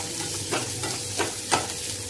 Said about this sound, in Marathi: तेलामध्ये कांदा टाकायचा आहे।